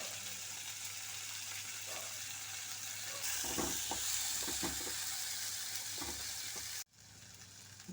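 Kuppaimeni leaves sautéing in hot oil with rock salt in a home kitchen pan, a steady close sizzle and fry with occasional stirring scrapes, louder after a few seconds before cutting off near the end.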